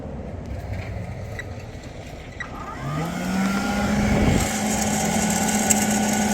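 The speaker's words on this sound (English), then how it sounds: "The motor's really not spinning up to speed, so there it is, stalled." A Sparx ES200 skate sharpener motor with a 5/8 inch grinding disc labours and stalls, its tone rising unevenly in a strained hum before dropping and holding as a steady whine, with no talk over it.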